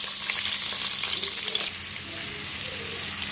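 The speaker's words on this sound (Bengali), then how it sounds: "হালকা তেল দিয়েছি, এখন পেঁয়াজ মরিচ কুচি ঢেলে দেব।" Chopped onion and chili hit hot oil in a pan for pasta, giving a loud bright sizzle that drops to a steadier, quieter frying hiss partway through.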